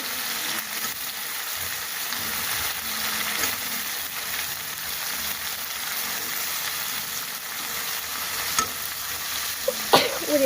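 Meat goes into fried spice masala and is stirred in a pan, giving a loud, steady sizzle with scraping stirs and a few sharp clinks near the end, with no speech.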